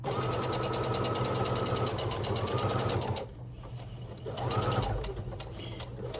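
A sewing machine stitches a summer tote bag with a steady, close whirring hum, stops briefly partway through at a corner turn, then runs again.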